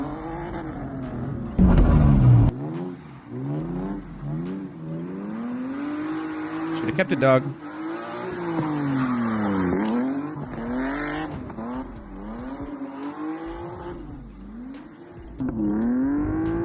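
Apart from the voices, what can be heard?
car drifting on the street, tire squeal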